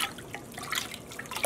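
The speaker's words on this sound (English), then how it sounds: "And just stir this up quickly." Vinegar being stirred into a pot of water for yarn dyeing gives soft, quiet liquid swishing and light dripping over a second and a half.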